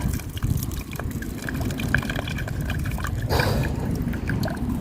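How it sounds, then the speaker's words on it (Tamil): Drinking water from a tap at a truck stop rest area runs steadily after the tap is turned anticlockwise, a continuous close trickling stream with no talk over it. "ஆன்டி கிளாக் வாய்ஸில் ரொட்டேட் பண்ணால் தண்ணி வருது"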